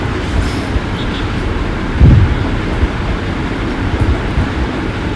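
A train at a railway station, a steady loud low rumble and roar throughout with a brief heavier surge midway, no clear voices.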